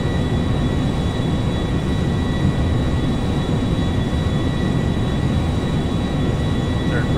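Jet aircraft in the GTA 5 video game roaring steadily and loudly throughout, a constant dense engine rumble with no breaks and no talking.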